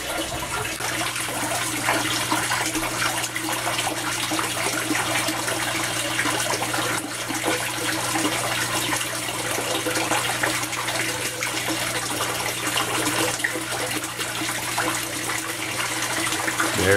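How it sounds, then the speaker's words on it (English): Water drains in a steady, rushing gush as a bell siphon empties an aquaponics grow bed built in an IBC tote, a continuous close roar with a low hum beneath. "Bell siphon just activated, so it'll pull all the water back down."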